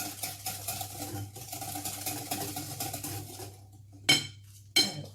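A whisk beats liquids together with fromage blanc in a bowl for breakfast muffin batter, giving a fast, steady clatter and scraping against the bowl, then a pause before two sharp clinks near the end.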